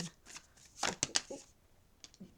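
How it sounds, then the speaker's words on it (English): Tarot cards are shuffled by hand in quick crisp riffling bursts. A short flurry comes first, then a few soft flicks after a pause, close up with no talking. "We'll shuffle that again."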